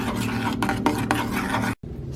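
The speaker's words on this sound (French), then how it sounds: "À cette ganache, j'ajoute le beurre, je mélange jusqu'à ce qu'il soit fondu." Chocolate caramel ganache made with honey and cream is stirred with added butter until it melts, giving a steady close scraping and rubbing in the pan. It cuts off briefly near the end.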